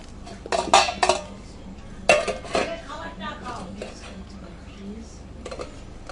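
A white tiffin box being covered with its lid, with a few sharp metallic clinks and clatters of dishes up close and quieter handling noises in between.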